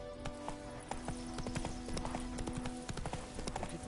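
Horse hooves clip-clop steadily in a video game, a regular walking rhythm of close, crisp hoofbeats with a faint whinny and a low musical drone beneath.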